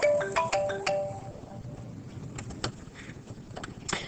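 A mobile phone ringtone goes off in a classroom during a maths lesson, a short melodic run of bright chiming notes in the first second, followed by quieter room noise and a few scattered knocks.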